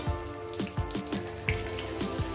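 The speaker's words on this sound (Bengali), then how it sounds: "লঙ্কাগুলো আমার ভাজা হয়ে গেছে" Green chillies fry in a pan of hot oil, a steady close sizzle broken by a series of sharp pops and spits at irregular intervals, with no voices.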